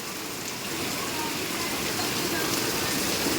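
Heavy rain pours down on a street in Mumbai, a loud continuous hiss of drops striking surfaces that swells slightly and holds steady throughout, with no clear speech.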